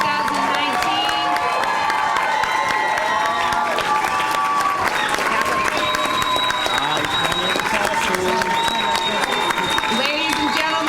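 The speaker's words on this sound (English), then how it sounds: "Let's give them a round of applause, please." Crowd at a 2019 winter middle college commencement ceremony claps and cheers for the graduating class, with whoops and shouts over continuous loud applause across the whole stretch.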